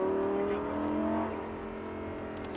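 A Lamborghini Gallardo drives on a race track, its engine a steady loud drone that eases slightly over a couple of seconds, heard alone without talk.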